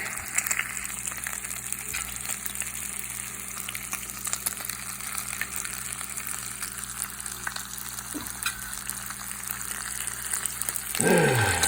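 Wagyu beef bacon frying in a pan, a steady close sizzle and crackle throughout with faint scraping and a brief louder stir near the end.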